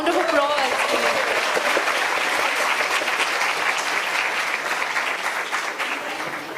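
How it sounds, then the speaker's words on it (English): Loud audience applause roars through a hall at a women's leadership conclave in Indore, many hands clapping in a thick continuous wash, with a voice briefly audible at the beginning. "And can we have another really, really roaring louder round of applause?"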